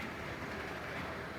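A model passenger train runs on a large museum layout, giving a steady, faint rolling rumble with soft clickety-clack that continues without a break and without speech.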